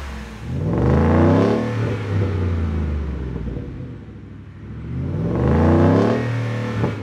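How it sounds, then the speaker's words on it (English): A Ford F-150 with a 5.0L V8 and Flowmaster FlowFX Extreme Turndown exhaust revs twice, each deep, loud rumble rising and then settling back to a steady burbling idle between pulls. "the Flowmaster FlowFX Extreme Turndown System. Now, as you can probably guess, this one is gonna bring the most noise into your cabin area"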